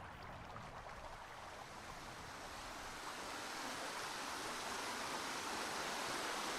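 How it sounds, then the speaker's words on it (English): A waterfall in the game Ashes of Creation gives a steady, broad rushing roar that swells slightly louder, with no talk. "Because that's a waterfall."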